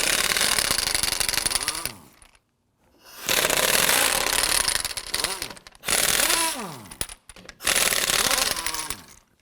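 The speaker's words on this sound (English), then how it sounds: "we're going to loosen and remove the lug nuts" Impact wrench with a 19mm socket loosening and removing wheel lug nuts on a 2008-2011 Ford Focus, heard as three or four loud, close, sustained hammering bursts separated by brief pauses, with the motor pitch sweeping down as each burst stops.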